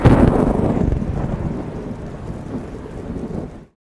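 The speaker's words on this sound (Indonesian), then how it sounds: "bunyi yang menggelegar, sembaran petir itu juga sempat mengeluarkan api yang kemudian menghilang dalam beberapa detik saja" Heavy thunderstorm at the Mandalika circuit, with a loud lightning crack and rolling thunder over steady rain, the roar fading over about three and a half seconds before cutting to silence.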